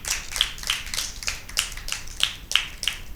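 Applause for Team A at a Christmas Bible quiz in a girls' high school, sparse rhythmic claps at a steady beat, fairly quiet and close, with no voices over them.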